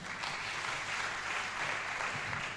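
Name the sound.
audience applause at law students' launch event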